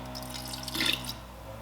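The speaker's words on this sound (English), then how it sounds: "This is some of the vinegar water that I soaked this in originally. And just pour that in there." Vinegar water poured from a container into a dye bath: a brief splashing trickle that swells to a fuller pour midway, then fades quickly, close and alone.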